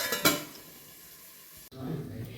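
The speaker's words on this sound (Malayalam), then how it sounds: "മൂടിയെടുത്ത് മൂടി വയ്ക്കുക" A lid set on a cooking pot of stirred masala in a home kitchen, a single light metallic clink followed by a quiet hiss, then a faint clunk as the lid settles.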